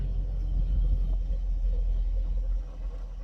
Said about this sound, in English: You hear that engine roar.